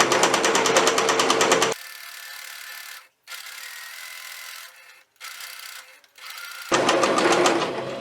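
A sewing machine stitching a plush teddy bear: a rapid, close mechanical run at the start, a quieter pause with light handling noises and soft clicks, then another loud burst of stitching near the end.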